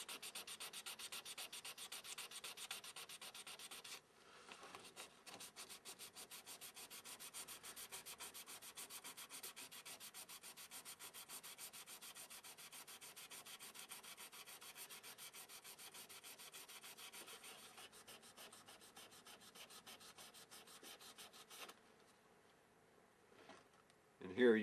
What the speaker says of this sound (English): I'm going to take some 600 grit sandpaper, just get these deeper scratches out of it.